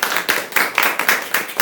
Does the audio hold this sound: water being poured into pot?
no